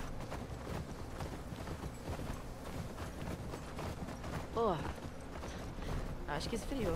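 Horse hooves clip-clop steadily while riding in The Last of Us Part II, a continuous rhythmic patter under game music and ambience, with someone talking over it.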